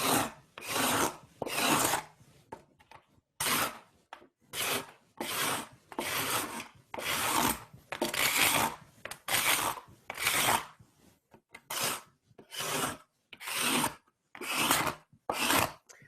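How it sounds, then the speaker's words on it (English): Card scraper worked over shop-sawn wood veneer, about twenty short rasping strokes in a quick uneven rhythm with brief pauses between them, close and loud. "just going to take an old-fashioned card scraper and do a good old-fashioned scrapering"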